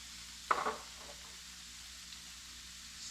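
Chicken and sausage hit hot oil in a pan, giving one short, loud sizzling burst that quickly fades into a faint, steady hiss with no talking.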